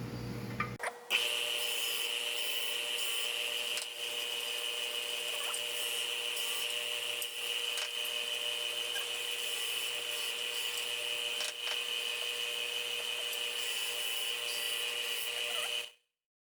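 Steady, continuous sanding whir of a lathe running without pause while sanding an HDPE plastic pen tube, a high constant tone over a gritty rasp, close and loud throughout.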